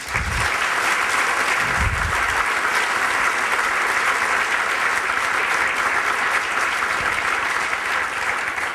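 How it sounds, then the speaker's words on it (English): A conference audience applauds morning panelists at a CFO business event, steady sustained clapping filling the room from start to finish with no pause. "Let's give them a round of applause."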